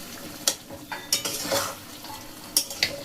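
Eggplant pieces stirred into simmering spice gravy in a pan for an eggplant masala curry, with a few sharp utensil scrapes and clacks over a soft sizzle.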